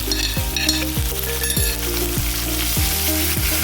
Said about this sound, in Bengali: এখন দিয়ে দেবো পেঁয়াজগুলো দেব রসুনটাও দিয়ে দেবো